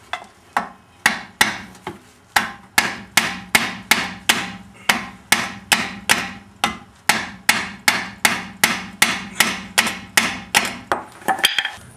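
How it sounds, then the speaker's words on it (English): A hammer taps a Subaru EA82 steering knuckle onto its strut, about two dozen sharp metallic blows in a steady, even rhythm, loud and close. "I'm going to tap the knuckle onto the strut."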